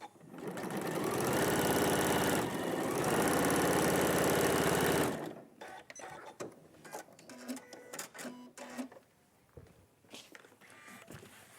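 A sewing machine stitches a fabric seam in one loud, steady run of about five seconds, then stops, leaving quieter clicks and handling sounds of the fabric being moved.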